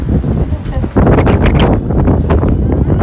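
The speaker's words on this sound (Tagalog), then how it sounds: "Ay, lakas ng hangin, oh." Strong wind roars and buffets the microphone in heavy gusts, loud and constant, with a brief lull before it surges again.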